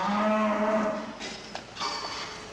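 A cow on a dairy farm in the province of Parma, Emilia, Italy, gives one drawn-out moo that fades, followed by faint farmyard shuffling.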